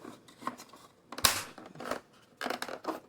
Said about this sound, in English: You hear those snaps, everything's clicking in.